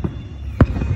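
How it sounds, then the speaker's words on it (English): Fourth of July fireworks going off: one sharp, close explosion bursts out mid-moment over a steady background hiss, with fainter pops trailing after. "we're celebrating with fireworks."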